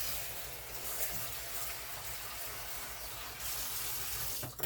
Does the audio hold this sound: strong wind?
no